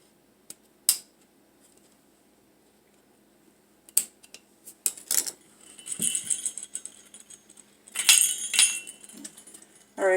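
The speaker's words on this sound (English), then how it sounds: "See if I can cut this piece off." A piece being cut off a dollar-store snow globe craft, heard as a few sparse, sharp metallic snips and clicks, then denser rattling and scraping handling noise near the end, with long quiet gaps between.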